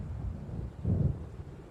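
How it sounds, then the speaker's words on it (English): Low, distant rumble of thunder from an approaching storm in the Alan Wake game, a soft swell of deep rolling noise against a quiet windy background. "It seems there's a storm coming."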